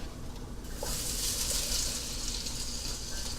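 A steady, hissing crackle starts suddenly and holds as corn fries in hot oil in a pan, fairly quiet and close.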